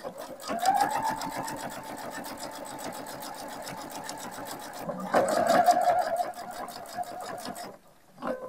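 A sewing machine stitches an ironing mat, running steadily and close for several seconds with a brief pause and restart near the end.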